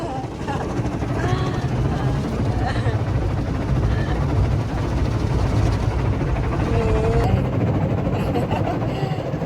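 A helicopter flies overhead in Japan, a steady throbbing rotor roar with a low drone that holds constant and fairly close, while someone talks over it.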